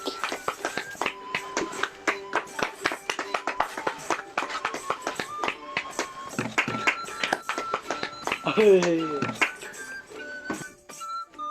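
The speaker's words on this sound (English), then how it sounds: "And now everyone takes bow and the audience claps" Audience in a small toy theater giving scattered, uneven applause of claps and taps at a performance's curtain call, with a brief vocal flourish near the end before the clapping thins out.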